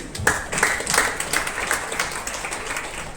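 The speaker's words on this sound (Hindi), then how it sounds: "जोरदार ताली इनके लिए।" Audience applause at a talk on MLM and public speaking, a moderate patter of clapping hands with scattered sharper claps running steadily for a few seconds, no voices over it.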